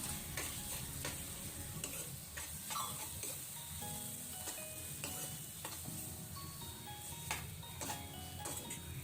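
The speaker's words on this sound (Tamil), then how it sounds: "எல்லாத்தையும் ஒன்றா சேர்த்து நல்லா வதக்கிக்கலாம்" Onions and tomatoes sautéing together in a pan for a Tamil chicken 65 gravy, a steady close sizzle with repeated scraping and stirring clicks, no voices.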